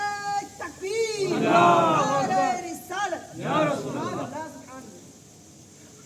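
A crowd at a Rabi ul-Awwal religious gathering shouts the takbir response Allahu Akbar in unison, two loud swelling waves of many raised voices with a fainter tail of scattered calls.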